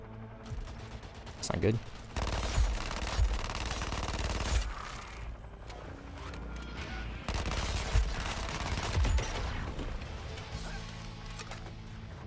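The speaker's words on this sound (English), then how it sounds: "Covering fire" Bursts of covering gunfire in a video game, several loud volleys spread across the clip with a steady game soundscape beneath and someone talking over it.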